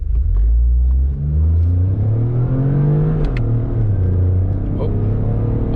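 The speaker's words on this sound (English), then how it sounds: "I'm gonna do a 0 to 60 in manual mode here." A 2025 Toyota GR Corolla automatic pulls from a soft launch up to speed in manual mode, engine rumble rising in pitch, dropping at a shift and climbing again, heard from inside the cabin with a steady low drone throughout.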